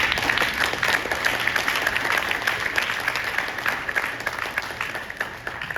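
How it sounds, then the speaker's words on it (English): Audience applause at a saxophone arangetram recital, a sustained wash of many hands clapping evenly for several seconds, moderately loud with a faint murmur of crowd beneath. "applause is due to Sri Latin"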